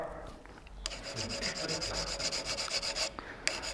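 A carving tool is sharpened from the top with a steady rasping, rubbing scrape in quick back-and-forth strokes, close and fairly quiet.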